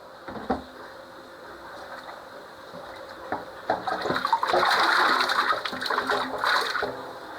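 Tap water runs steadily while raw chicken is rinsed in a kitchen before seasoning for chicken bumbu rujak, a faint trickle at first, then a louder, fuller gush from midway to the end, with no talking.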